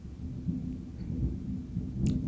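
Low rumbling thunder rolls beneath steady noise as a rainstorm approaches indoors, with a brief crackle near the end.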